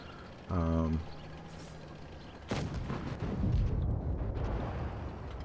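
A 112 Glacial Chinese Tier 8 heavy tank in World of Tanks Blitz fires its main gun, one sharp loud boom followed by a rumbling tail, after a brief engine tone.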